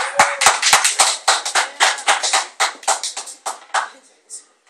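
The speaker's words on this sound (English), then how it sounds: "So could you all please, with a warm round of applause" An audience at a poetry reading during a word and music festival claps to welcome a poet, with sharp, scattered hand claps in a quick, uneven rhythm that thin out and fade over about four seconds.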